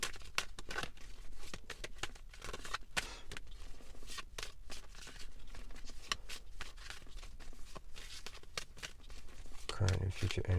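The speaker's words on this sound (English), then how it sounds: "Current and future energy with the Prism Oracle. I'm just shuffling these" Prism Oracle cards are shuffled nearby in a steady run of soft riffling and slapping bursts that continue throughout, with a voice talking quietly under the card noise.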